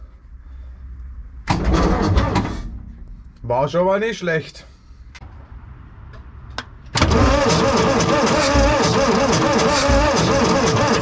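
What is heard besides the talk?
old tractor engine cranking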